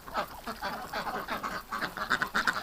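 Several ducks quack repeatedly and close by, a busy overlapping chatter of nasal calls with honking notes mixed in.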